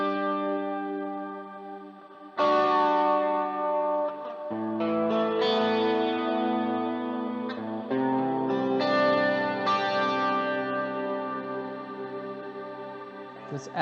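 Electric guitar played through a Line 6 Helix with a Minotaur overdrive engaged, ringing sustained chords with chorus-like modulation and echo, changing every couple of seconds over about fourteen seconds, loud and alone with no talking.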